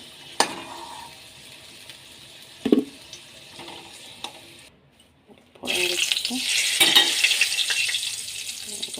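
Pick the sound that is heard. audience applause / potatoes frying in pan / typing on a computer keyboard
potatoes frying in pan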